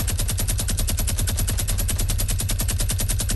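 Rapid, steady automatic gunfire from a Fortnite match fills the whole stretch, loud and close, with dense evenly spaced shots and no talking over it.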